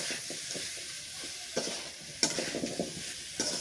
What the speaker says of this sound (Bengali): এটা নাড়াচাড়া করে নি এই জায়গায় কষাই নিই সুন্দর করে